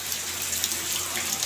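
Rain patters steadily outside in the early morning, a soft, even hiss of drops close by with no voices over it.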